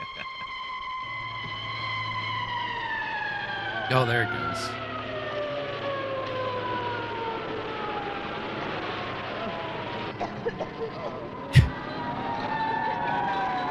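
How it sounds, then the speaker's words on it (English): A long wailing siren in Arkansas sweeps slowly downward like one long whistle, steady and fairly loud, with a voice speaking briefly and a sharp knock partway through. "Sirens in Arkansas just sound like one long whistle."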